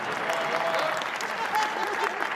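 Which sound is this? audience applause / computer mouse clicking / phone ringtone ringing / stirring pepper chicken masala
audience applause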